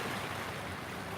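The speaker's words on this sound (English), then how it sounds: "Is the water a lot louder now, Eduardo? Well, that might be because there's some bigger waves now" Continuous wash of ocean waves, a dense, even hiss of surf at moderate level with no voices.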